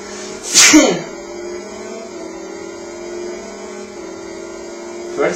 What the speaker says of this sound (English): First sneeze for a long time.